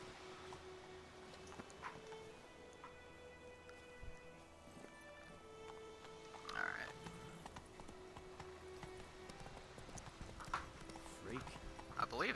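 Horse hooves clip-clopping at a steady gallop in The Witcher 3 video game, a continuous rhythmic beat under game ambience, with someone talking over it.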